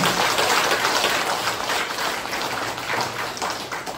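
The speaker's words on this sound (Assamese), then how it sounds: "এটা মাৰকচোন হাত চাপৰি সকলো ডাঙৰকৈ।" An audience at a thanksgiving event in Beltola claps together, a dense, continuous patter of many hands that swells slightly and then tapers over a few seconds.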